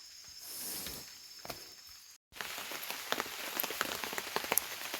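Rain patters on a surface, soft at first, then after a short break a denser, steadier fall with scattered close drops.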